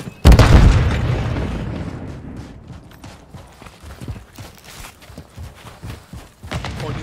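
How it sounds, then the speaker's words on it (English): A stun grenade bursts in Call of Duty Modern Warfare 3 multiplayer, one loud, close bang that rings and decays over a couple of seconds before scattered gameplay clatter and footsteps take over. "Stun grenade out!"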